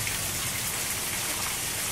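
Steady, dense storm rainfall hisses close by, a constant wash of drops on surfaces with no breaks.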